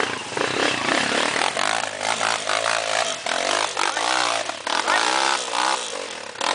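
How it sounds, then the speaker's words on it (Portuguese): A motorcycle engine on a dirt trail revs hard and continuously close by, rising and falling in pitch as it strains and labors. "a moto vai socando"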